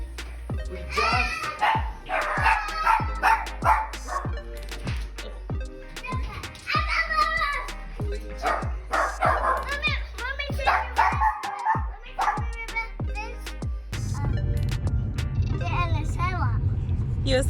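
Several dogs bark in bursts as a family arrives at a house, sharp close barks scattered throughout under steady children's and adults' chatter, with a low rumbling engine-like hum near the end.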